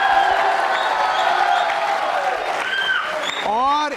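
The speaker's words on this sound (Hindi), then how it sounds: "तालियां जोरों से।" Audience applause at a school quiz show about Lord Mahaveer, a loud steady wash of clapping from a crowd, with a few whoops and voices rising near the end.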